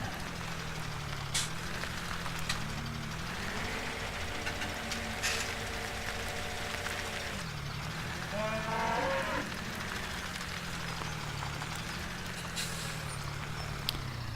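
Cows moo in a farming video game, several long low calls overlapping one after another above a steady engine drone, with a voice talking faintly in places.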